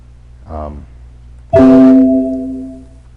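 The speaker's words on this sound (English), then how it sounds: "That sound you hear, that's every time a dialog box pops up." A brief murmur of a voice, then a loud, bright electronic alert tone from a Microsoft Excel 2016 dialog box popping up sounds once and rings out, slowly fading.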